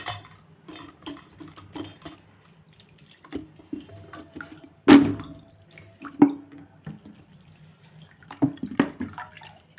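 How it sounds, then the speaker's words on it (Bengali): Flattened rice (chira) rinsed in water in a bowl in a home kitchen, with soft sloshing, dripping and light clinks of the bowl, plus one louder splash midway. "2-3 বার একটু এটাকে ধুয়ে নেব এবং নোংরা জল বেরিয়ে যাবে"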